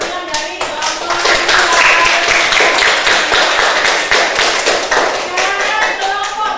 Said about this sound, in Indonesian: Oke, tepuk tangan untuk Ibra perwakilan dari kelompok 2.